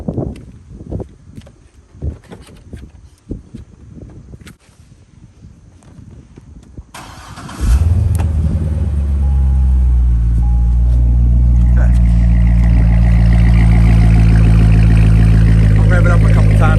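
A few clicks and shuffling noises, then a Corvette C6 LS3 V8 engine cranks and catches with a loud burst, settling into a deep, rumbling idle that continues steadily.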